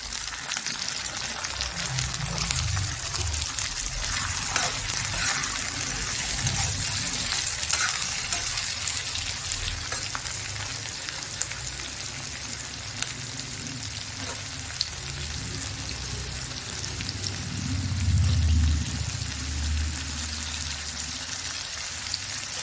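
Washed potatoes frying among sautéed onions, a loud, steady close-up sizzle with low bubbling and occasional stirring swells, a stronger surge near the end, no voices.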